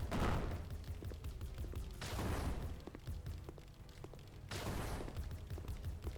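Turrets firing in a tower defense video game: three dense bursts of rapid muffled gunfire, each swelling then fading over about two seconds, fairly faint and without talk.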